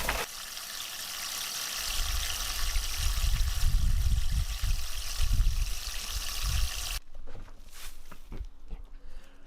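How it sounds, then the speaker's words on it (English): Hose water pours steadily onto compost in a wheelie bin, a broad continuous splashing rush up close that stops abruptly, leaving quiet outdoor sounds with faint clicks. "Plenty of hose water on it so it can finish up that process."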